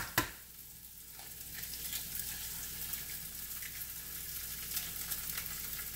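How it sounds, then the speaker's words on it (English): An egg cracked into a pan with patty pan squash, carrots and spinach, frying with a soft, even sizzle and a brief clack at the start, steady and close without talk. "I break the yolk and then just let it cook all inside of it."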